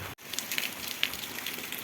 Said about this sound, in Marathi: बघू जरा कसा पाऊस पडायला लागलाय